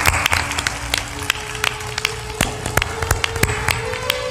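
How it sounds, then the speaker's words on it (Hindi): An audience claps to welcome an arriving guest, a lively room of sharp, uneven hand claps with some louder single claps standing out, close and sustained throughout. "ताली बजा दो, कोई अतिथि आए।"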